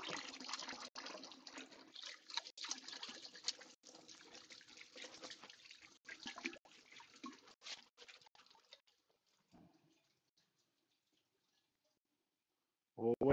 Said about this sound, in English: So just bear with me while I just wash my hands.